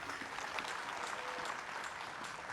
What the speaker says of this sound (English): She gets the applause from the home crowd.